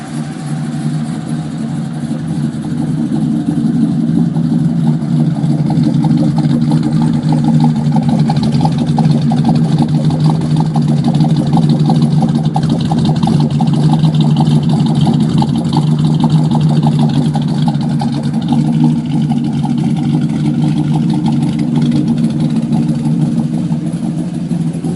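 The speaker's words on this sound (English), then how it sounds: "Let's take a listen to the exhaust." A 1957 Chevrolet custom's exhaust idles continuously throughout, a steady, low engine rumble, deep and loud with a slight rhythmic throb, with no talking over it.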